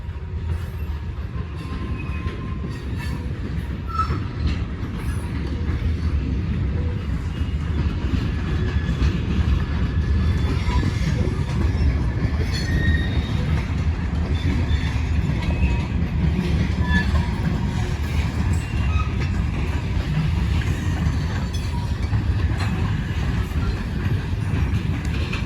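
A long freight train with grain cars rolls past with a steady, heavy rumble and rhythmic clacking of wheels on rails, sustained throughout.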